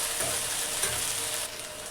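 Okra (bhindi) fries in a pan with a steady, bright sizzle and occasional scraping stirs. It is close and continuous for a couple of seconds, easing slightly near the end, with no talking.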